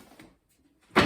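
A door is swung shut, ending in a loud, broad thump after a short quiet pause and some faint handling noise.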